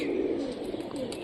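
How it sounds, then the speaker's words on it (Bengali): A Mushki pigeon, a feather-footed local Rajshahi flying breed, gives a soft, low, continuous coo close by, alone for about a second. "মুশকি কবুতর, এটা সবুজ দবাস চুটা, পায়ে ফেদার আছে এটার"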